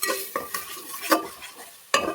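Fish curry masala fries in a pan as a utensil stirs it, giving a few sharp scraping clinks over a soft sizzle, close and short.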